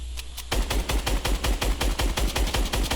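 Rapid bursts of gunfire in Fortnite, sharp repeated shots in a fast, steady rhythm after a brief quieter start, loud and close.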